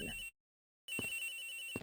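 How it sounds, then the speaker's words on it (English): Telephone ringing from inside a locker in Ace Attorney Investigations: Miles Edgeworth, two rings split by a brief silent gap, each a steady electronic trill with low thumps, fairly close and without talk. "The ringing's coming from in here, sir."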